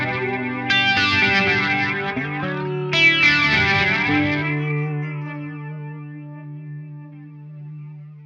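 Sustained electric guitar chords through a PRS effects pedal, drenched in distortion and chorus, two strummed hits ringing out with a shimmering, wavering tone that slowly fades.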